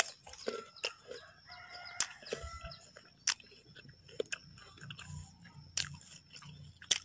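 Crisp bites into a crunchy red crystal guava, a string of sharp crunching snaps scattered through a few seconds, close up with a rooster crowing and clucking in the background.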